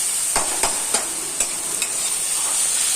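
Onion, garlic, chili, panch phoron and tomato with turmeric fry in a pan, a loud steady sizzle overlaid by a few crisp stirring scrapes in quick succession, nobody talking.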